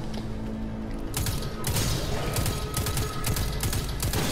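Enemy sniper fire in the video game Destiny 2, heard as a dense run of sharp, loud shots and impacts layered over busy game effects, with a player talking throughout.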